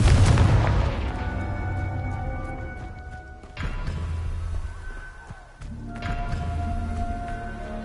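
A Confringo fire-blast spell explodes in the Hogwarts Legacy video game: a loud, close boom opens, decaying into a rumbling tail, then two more heavy blasts follow a few seconds apart.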